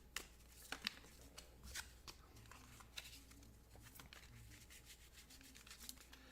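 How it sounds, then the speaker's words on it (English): Cards for the Aeon's End board game being shuffled by hand, a faint run of quick riffling and soft rubbing taps at close range, with no talk. "Let's shuffle it up and see what we get"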